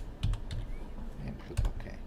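Someone types a password on a computer keyboard, a few quiet keystrokes in a short, uneven burst close by.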